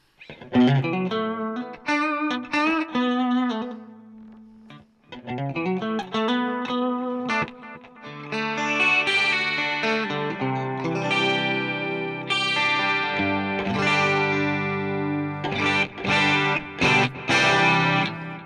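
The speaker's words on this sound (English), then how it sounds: "let's just try and see what the delay sounds like" Electric guitar notes and chords played through an AmpliTube delay effect on an iPad, with repeating echoes trailing each phrase and a short pause midway.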